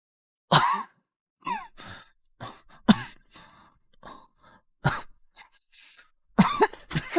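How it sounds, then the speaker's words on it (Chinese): Repeated coughing from one person, several separate dry bursts spaced across the clip with quiet breaths and sighs between them, close and fairly loud against silence. "怎么又咳嗽了？"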